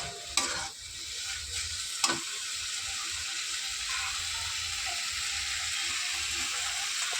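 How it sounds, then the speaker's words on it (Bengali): Spice paste (masala) frying in a pan for a prawn and elephant-foot yam curry, a steady soft sizzle with a couple of sharp stirring scrapes near the start, close and moderate, no talking. "দেখো আমি মশলাটা এখানে ভালো করে কষিয়ে নিয়েছি"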